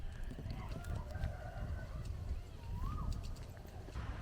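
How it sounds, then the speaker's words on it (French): Birds chirp and whistle in short bursts over a steady outdoor background rumble, moderately distant. "je sais pas si vous entendez le bruit des oiseaux"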